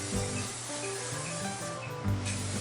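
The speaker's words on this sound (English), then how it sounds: "Use spray, okay? I just got some generic olive oil there." A steady hiss of olive oil spraying onto a Lodge cast iron grill runs through the whole moment, close and continuous, with a faint mechanical hum beneath and no talking.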